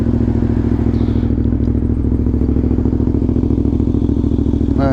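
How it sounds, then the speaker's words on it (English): A small V-twin motorcycle engine idling in neutral, a steady loud rhythmic thumping with mechanical clatter, heard close up and alone for the whole stretch. "I love how the little V-twins sound."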